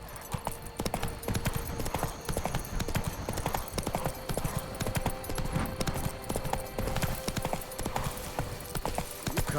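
Horse hooves from The Witcher 3 game clip-clop in a steady galloping rhythm, close and continuous, with a rider's brief spoken voice and game music faintly underneath.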